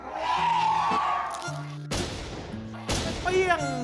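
Explosions and gunfire in the online survival shooter Infestation, heard as several sharp broadband blasts with ringing decay, spaced about a second apart, loud and close over faint game music.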